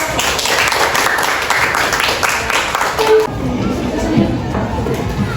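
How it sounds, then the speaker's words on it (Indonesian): A classroom group gets a burst of applause, many hands clapping together in a dense, loud patter for about three seconds, followed by quieter room noise and a voice speaking. "Tepuk tangan untuk kelompok."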